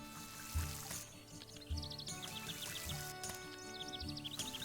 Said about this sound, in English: We're going to water these first so we don't forget.